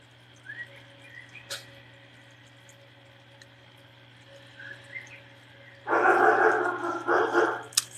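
A dog barks in a rapid burst of loud, close barks near the end, after a quiet stretch with crickets chirping faintly and a low steady hum.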